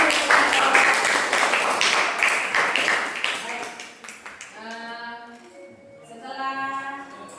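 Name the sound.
classroom applause for students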